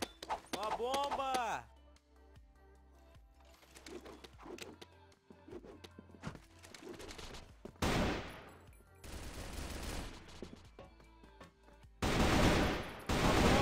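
AK rifle gunfire in the first-person shooter CrossFire comes in loud, dense bursts of rapid shots, with quieter stretches of game sounds and a person talking between them.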